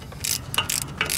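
A 13 mm ratchet wrench turns a bolt while removing an exhaust manifold heat shield, producing several quick, close metallic clicking bursts in a short, uneven rhythm.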